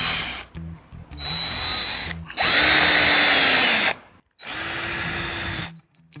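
Power drill boring holes into a wall for a TV wall mount, three loud sustained whirring bursts of a few seconds each with the motor pitch steady, separated by brief pauses.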